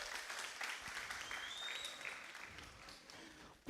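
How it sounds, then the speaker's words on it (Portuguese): A church congregation at a communion service applauds a preacher, moderate scattered clapping that fades gradually before a sudden loud burst at the very end. "Uma salva de palmas para o nosso irmão."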